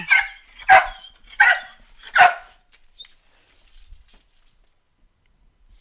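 A dog barks four times in a quick, evenly spaced series, loud and close, then goes quiet with only faint room sounds.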